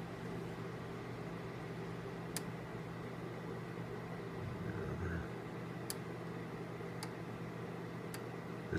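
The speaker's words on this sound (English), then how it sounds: "It's picking up fan noise." Steady fan hum bleeding into an AM/SSB Class B biased CW transmitter setup, a constant broadband whir with a low hum band running through the whole stretch, broken by a few faint ticks.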